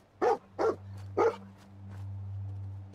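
The dog companion in Fallout 4 barks three times in quick succession, close and clear, followed by a softer whimper over a low steady hum.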